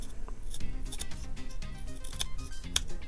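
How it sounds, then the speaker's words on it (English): An X-Acto blade trims a model RC plane propeller in a series of close, crisp scraping cuts, irregular but steady over a few seconds, with sharp snips near the end. "I'm going to go ahead and remove a little bit of this with my X-Acto blade"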